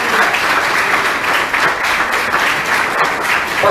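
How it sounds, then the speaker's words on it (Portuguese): Sustained, steady applause from a church congregation honoring graduates at a ceremony, dense clapping filling the room at full volume for the whole stretch with a few voices mixed in. "Vamos dar uma salva de palmas a esses irmãos."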